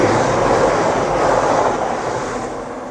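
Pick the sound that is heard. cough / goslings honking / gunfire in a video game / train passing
train passing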